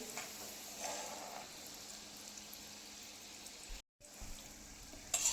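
Shankarpali dough pieces fry in oil over medium gas, giving a steady, soft sizzle that holds throughout with a brief silent gap near the end, no voices.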